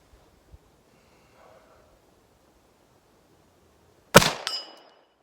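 A single sharp, loud report from a .357 Ruger Vaquero revolver fired at a freshly painted steel swinger target breaks a near-silent stretch, then trails off in a brief ringing decay.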